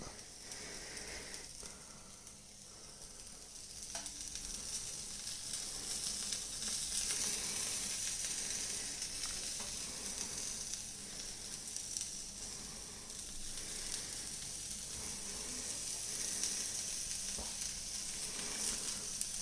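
Pan pizza dough sizzles steadily in a hot pan, a soft continuous hiss with faint crackles, fairly quiet and unbroken throughout with no one speaking.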